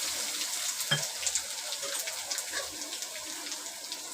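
Garlic fries in oil in a pan, giving a constant soft sizzle and crackle with scattered pops, close and steady, with no speech.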